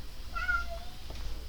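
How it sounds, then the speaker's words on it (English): A house cat meows once, a short clear call standing out over a steady low hum of background noise, with no talk around it. "was meowing if you guys weren't paying attention, for some reason"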